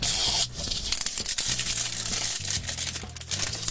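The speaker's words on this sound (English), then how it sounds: "Gotta pull down our zipper." Close crinkling and tearing as a plastic zipper pack is pulled open, a raspy drawn-out rip with scattered crackles over a low background hum.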